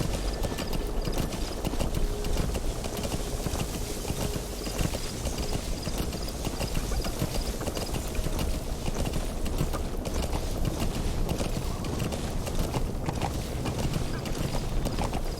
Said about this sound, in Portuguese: É o cavalo com sangue de cabrito. Consegue pular nas pedras, subir montanha.